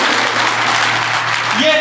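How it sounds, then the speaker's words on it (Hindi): An audience applauds after a Navratri religious discourse in Khachrod, a dense, loud burst of many hands clapping at once, with a voice briefly rising near the end. "जोरदार ताली बजाओ जरा हमारे गजेंद्र पन्ना के लिए"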